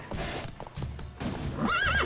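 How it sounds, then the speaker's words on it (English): In The Witcher 3, horses clop their hooves in an uneven rhythm, then one gives a loud, rising whinny near the end. Both are close and clear, with no talking. "as the dude's horses help him out."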